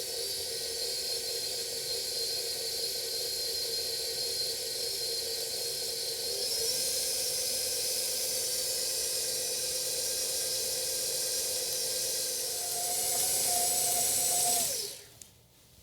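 A stand mixer whirs steadily while mixing gluten-free chocolate sugar cookie dough with cocoa, a constant, fairly faint motor hum and hiss that shifts pitch slightly and then stops abruptly at the end.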